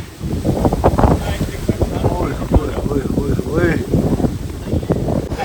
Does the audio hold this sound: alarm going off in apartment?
no